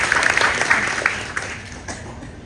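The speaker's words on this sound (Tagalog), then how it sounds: "palakpak naman kayo dyan, para medyo" Congregation at a church service applauding in a scattered, modest burst of clapping that fades out over a couple of seconds, fairly soft and slightly distant.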